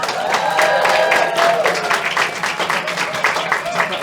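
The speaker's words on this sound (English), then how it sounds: "How about a nice, tell us another one, warm round of applause for Olga Loitsenko." A comedy show audience gives a warm round of applause for a guest comedian, a steady wash of clapping and crowd noise with a voice talking over it throughout.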